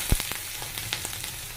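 Dried fish with salt and turmeric fries in a pan, a soft sizzle with a few sharp crackles and pops spread over a second and a half, close and alone.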